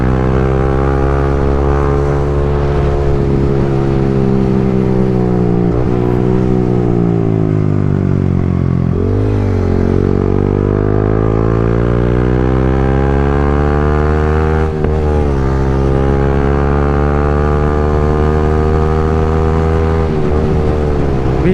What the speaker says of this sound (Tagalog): grabe ang tahimik ng motor niya pero waswas -was eh